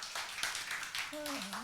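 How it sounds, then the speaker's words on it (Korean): A small church congregation at a Sunday sermon claps briefly in a few scattered bursts, with a voice speaking over the end. "박수 한번 해주십시오."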